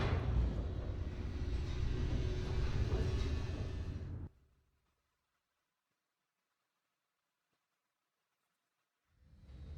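An elevator racing downward in The Stanley Parable: a steady, broad rumbling roar lasting about four seconds, then abrupt silence, with the rumble returning faintly at the very end.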